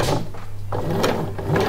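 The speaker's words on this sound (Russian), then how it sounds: "Начинаем прокладывать строчку после закрепки. Делаем пару стежков." A sewing machine runs briefly and close by, making a couple of quick rattling stitches while sewing binding onto women's underwear.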